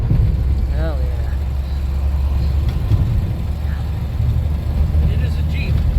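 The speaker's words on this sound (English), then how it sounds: "it is a Jeep. It's bouncy and it's noisy." A Jeep on 31-inch tires drives along, its noisy engine droning steadily and close throughout, with a brief whine early on and faint clatter over the road.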